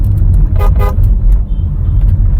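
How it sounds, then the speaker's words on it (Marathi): Horn of a 2nd generation MG Hector SUV, two short loud honks in quick succession over a low rumble of the engine and road noise, heard close by. "हॉर्नचा आवाज बघा"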